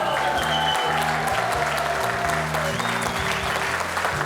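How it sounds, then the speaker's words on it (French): Studio audience of the French quiz show Questions pour un champion applauding winner Flavien after his fifth victory, a dense, steady wash of clapping over a low musical bed, loud and sustained throughout. "Flavien, très applaudi, bien sûr"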